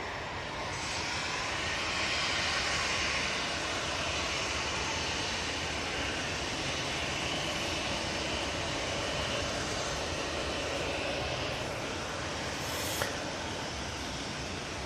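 Emirates airliner landing at Manchester Airport during a storm, a steady broad engine roar blended with heavy wind noise, sustained and fairly distant throughout with no talk.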